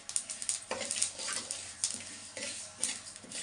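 Flax seeds crackle and pop while dry roasting in a pan, a scatter of small sharp ticks recurring irregularly and close, faint overall with no talk.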